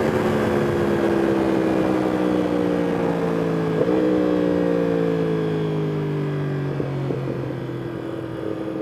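A 2021 Yamaha R1 motorcycle with a Woolich tune rides at speed, its engine giving a loud, steady, buzzing drone whose pitch sinks slowly, broken by a brief blip near the middle and a smaller one later.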